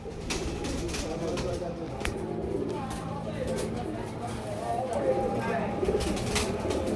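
Pigeons with double-striped markings and red eyes coo softly and continuously nearby, a low murmuring layer under someone talking.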